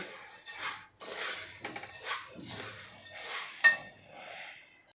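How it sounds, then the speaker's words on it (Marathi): Sun-dried coriander seeds are stir-roasted in a kadhai, giving close, short bursts of dry rattling and scraping as a spatula moves them, with brief pauses and a faint clink. "आपल्याला फक्त चार ते पाच मिनटे असा हलवत हलवत भाजून घ्यायचा आहे"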